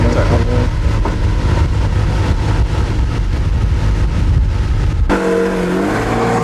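Ferrari engine heard from inside the cabin, a loud steady rumbling drone that suddenly drops and changes pitch near the end as the revs shift.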